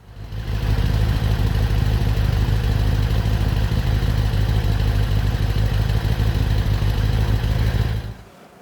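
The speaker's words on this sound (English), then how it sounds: "there's still this tickety noise" A 1990 Kawasaki ZZR1100 motorcycle engine idles steadily with a rapid mechanical ticking clatter running through it, close and fairly loud, cutting off near the end.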